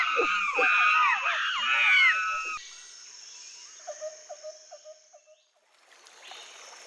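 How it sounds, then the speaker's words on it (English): Monkeys call in a rainforest, a burst of loud wavering shrieks and hoots for a couple of seconds, then a rapid series of quieter, evenly spaced calls that tail off, with soft water-like ambience. "They're monkeys."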